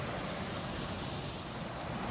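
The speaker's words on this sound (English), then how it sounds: "I love the sound of natural running water" Natural running water at a botanical garden flows in a steady, even wash of rushing noise, close and constant, with no voices.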